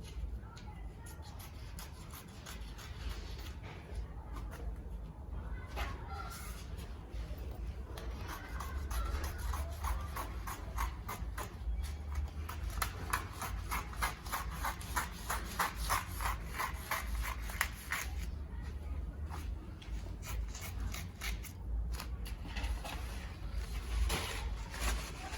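Shears snip through shirt fabric laid out on a table, a close, steady run of crisp cutting and rustling strokes that grows denser midway and keeps a soft background hum throughout.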